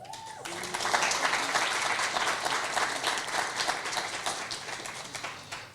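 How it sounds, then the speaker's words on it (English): An audience at a Black History Month opening event applauds a high school student, brisk crowd clapping that starts after a faint voice, stays lively for several seconds and slowly thins out. "Yes, please give her hands of applause"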